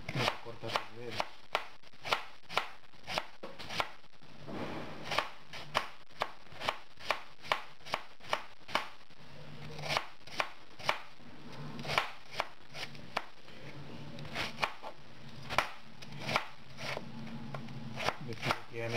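A knife chopping cucumber on a board for a lettuce, tomato and carrot salad: sharp, evenly spaced taps in a quick steady rhythm, close and clear, with a few pauses and some talk between runs.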